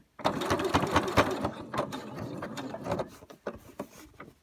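A sewing machine stitches back and forth over narrow round elastic for face masks, a close, rapid mechanical clatter in several short runs with brief pauses and a quieter ending.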